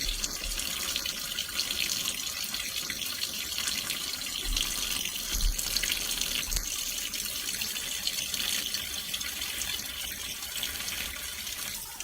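Steady running water pours from a tap into a jar as seeds are rinsed, a continuous close splashing and hiss for the whole stretch with no talking.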